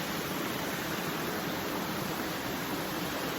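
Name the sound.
flowing water of a stream in nature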